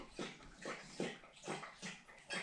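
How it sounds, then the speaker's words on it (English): A dog laps water in quick rhythmic splashing licks, about five or six wet strokes close by, with no talk over them. "Now you can hear my dog drinking."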